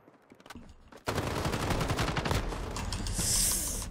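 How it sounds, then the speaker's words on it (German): Mounted gun turret in a video game opening fire after a brief quiet moment, then a dense, loud, sustained burst of rapid shots that continues to the end. "Komm, mein Geschütz muss doch jetzt auch mal irgendwas machen."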